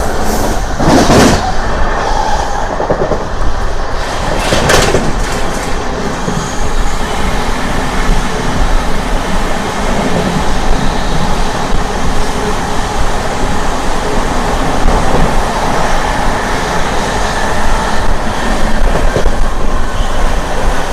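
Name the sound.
Amrit Bharat Express train running past Kavali station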